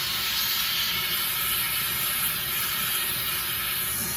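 Torch flame roaring and hissing steadily while heating a crucible of molten metal for casting a ring shank, a continuous broadband hiss at constant loudness with no talk.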